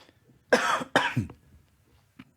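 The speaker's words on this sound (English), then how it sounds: "excuse me for my cough" Two sharp, close coughs in quick succession, followed by a faint throat sound and a small third cough after a pause.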